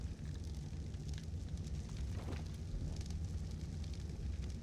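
A fire burns in Ark Survival Evolved's Scorched Earth DLC, giving a steady, dense rushing crackle that holds at an even level throughout with no voices.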